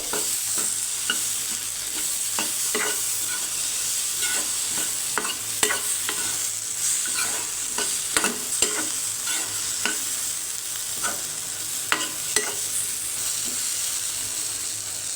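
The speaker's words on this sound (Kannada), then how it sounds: "ಲೋ ಫ್ಲೇಮಲ್ಲಿ ಇಟ್ಕೊಂಡು ಹಸಿ ಸ್ಮೆಲ್ ಹೋಗೋವರೆಗೂ ಒಂದು ಸ್ವಲ್ಪ ಚೆನ್ನಾಗಿ ಬಾಡಿಸ್ಕೋಬೇಕು" Ridge gourd masala sautéing over a low flame, with a steady close sizzle and repeated scraping stirs of a spatula against the pan throughout, no voices.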